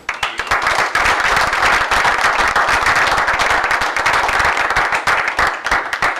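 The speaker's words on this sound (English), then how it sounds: "we would want to give him a round of applause" Audience at a borough council meeting breaking into applause, loud, close, steady clapping with sharp individual claps throughout, sustained for several seconds without speech.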